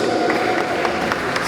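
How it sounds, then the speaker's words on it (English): Guests at a church wedding ceremony clap in praise: a loud, continuous wash of crowd clapping and noise with scattered sharper hand claps throughout. "Give a clap to the Lord Jesus"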